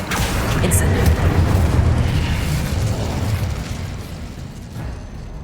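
An Incendio fire spell erupts in Hogwarts Legacy, a loud, close booming burst with a roaring rumble that gradually fades.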